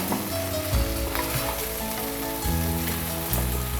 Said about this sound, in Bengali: আপনারা আবার দিবেন তো ঠিক হাই হিটে আছে এরকম ননস্টপ নাড়তে হবে